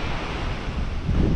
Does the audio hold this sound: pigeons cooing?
no